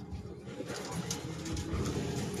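Pigeons make soft, low cooing near a loft amid a steady rustling outdoor background. There is no clear talking.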